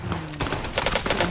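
Rapid bursts of video game gunfire crackle in a dense, close volley, several quick shots following one another with no talking.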